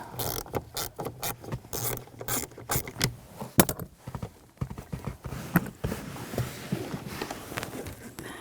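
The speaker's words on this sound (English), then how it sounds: "we're gonna disconnect the positive. Use a 10mm socket." A ratchet fitted with a 10mm socket loosens the positive battery terminal on a 2021-2023 Jeep Grand Cherokee L, giving a close run of quick, uneven clicks and clacks with a few louder metallic knocks.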